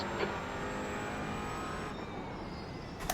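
A GT4 racing car engine in the iRacing simulator drones steadily at high revs, a constant close buzzing hum with faint tire and wind noise, and a brief click near the end.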